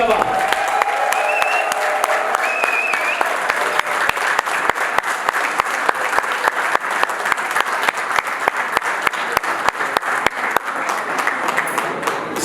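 An audience at an awards ceremony claps steadily and loudly for an honoree, a dense sustained round of applause without talk.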